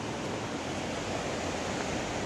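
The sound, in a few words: flowing water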